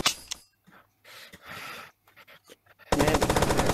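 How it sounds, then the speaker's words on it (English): Gunfire in a multiplayer video game, scattered sharp shots and bursts early on, then a loud sustained rapid machine-gun rattle closing out the stretch. "We're all just friendly firing at each other."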